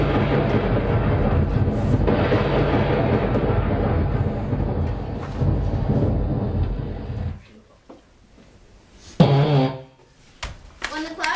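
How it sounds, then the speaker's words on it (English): Deep storm-cloud thunder effect, a loud sustained rumble rolling on for several seconds before dropping away, followed by sharper scattered cracks and a brief burst near the end. "The rumbling grew louder. A great black storm cloud surrounded him."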